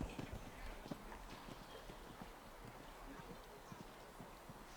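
Horse hooves pound a show jumping course at a grand prix, a rapid, steady clip-clop heard faint and distant against wind and background noise.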